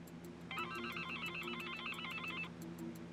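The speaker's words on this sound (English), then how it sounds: "Is that a phone?" In the VR game Cirno Plays Accounting, an office telephone gives a two-second electronic trill. It rings steadily, moderately loud, over a low background hum, with no talk.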